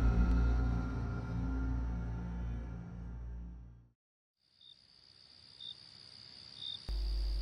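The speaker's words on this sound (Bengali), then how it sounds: "চারিদিকে শুধু ঝিঁঝি পোকার আওয়াজ" Crickets chirp at night in a silent village, a steady high trill broken by a brief pause, then returning as sparse, separate chirps that build back to a continuous drone.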